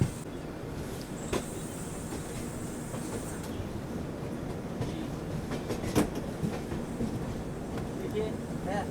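A Rajdhani Express runs between Lucknow and Delhi, heard from inside a 3rd AC coach as a steady low rumble with rhythmic wheel clatter and a few sharp knocks, while passengers talk faintly in the background.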